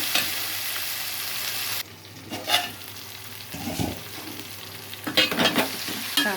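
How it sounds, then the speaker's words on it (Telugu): Tomatoes fry in a pan, a loud steady sizzle that drops abruptly partway through, then returns with bursts of stirring scrapes and crackles. "టమాటా కూడా వేగిపోయింది ఫ్రెండ్స్"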